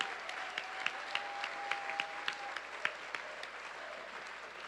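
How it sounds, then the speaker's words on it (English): Applause at a tribal general council: a modest crowd claps steadily for several seconds in an indoor hall, with a faint hum underneath. "Let's all give Mike Shawnee a big hand of applause for all his work"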